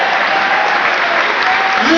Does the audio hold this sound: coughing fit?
no